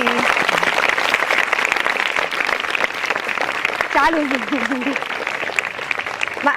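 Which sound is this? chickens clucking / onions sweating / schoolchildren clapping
schoolchildren clapping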